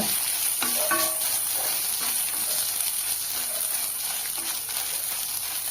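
A dry, crackling sizzle of chillies and salt dry-roasting over a low flame in a pan for garlic idli podi, with occasional scraping stirs, steady and close, with no talking.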